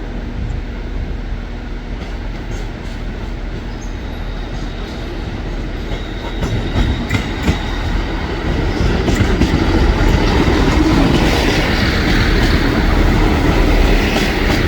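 A Transport for Wales Class 197 passenger train runs steadily between Manchester Piccadilly and Chester, with a continuous rumble and rattling wheels that grows slightly louder and fuller toward the end, with no voices.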